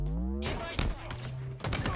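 Gunfire rings out in a Halo-style shooter, with several sharp bursts and thuds spread across the moment, mixed with game voice and music.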